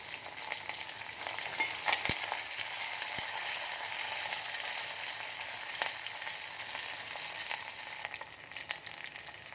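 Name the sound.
green chillies and curry leaves frying in oil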